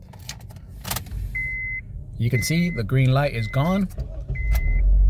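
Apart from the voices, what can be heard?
2006 Honda Civic engine starting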